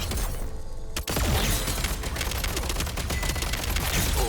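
Rapid video game weapon fire crackles in dense, loud bursts, a continuous barrage of sharp shots with a brief pause near the start.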